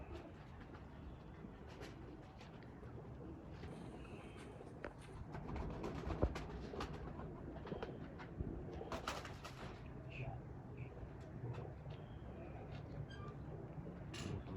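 Breeder pigeons coo faintly amid a busy loft background with scattered clatter and shuffling; a few bursts of noise rise over a steady low hum.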